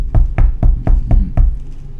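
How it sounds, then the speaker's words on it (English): Six loud, close knocks land at a steady rhythm, each a sharp thud, followed by a brief quiet stretch. "Do you hear him knocking?"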